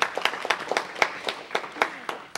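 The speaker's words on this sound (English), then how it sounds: "Let's give them a round of applause as well" A small gathering at a city council meeting claps for two guests, a sparse and uneven round of applause with distinct individual claps rising and falling, fairly soft and without talk.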